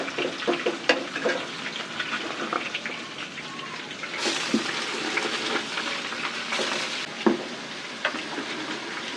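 Leafy greens go into a pan with browned garlic and onion, a continuous close sizzle with stirring clatters and bursts of hissing spatter, no talking.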